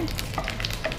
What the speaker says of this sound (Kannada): ಈಗ ಒಂದು 2 ಚಿಲ್ಲಿ ಕಟ್ ಮಾಡಿದ್ದು ಒಣಮೆಣಸು, ಇದು ಸ್ವಲ್ಪ ಫ್ರೈ ಆಗಲಿ